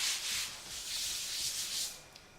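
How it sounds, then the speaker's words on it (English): Fondant icing gently pressed and worked by hand into a flatter circle, giving soft, steady rubbing and brushing swishes in slow waves close by, with no talking. "Take your fondant and again just gently work it into a flatter circle."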